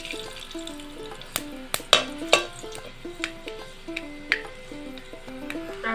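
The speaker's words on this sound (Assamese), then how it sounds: "এতিয়া মাছৰ তেলতে আৰম্ভ কৰোঁ আৰু বনাবলৈ। প্ৰথমতে মিঠি গুটিকেইটা দি লৈছোঁ।" Fenugreek seeds sizzle and fry in fish oil at the start of a snakehead fish curry, giving a soft, steady crackle with a few sharper pops and stirring clinks nearby.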